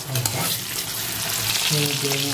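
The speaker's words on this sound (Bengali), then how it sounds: "তেলের মধ্যে আমি দিয়ে দেবো 3টে কাঁচা লঙ্কা চিরা, এক টমেটো কুচি, আর একটু ভেজে নেবো" Three slit green chillies and chopped tomato frying in hot oil in a pan, a loud continuous sizzle close by with light stirring scrapes.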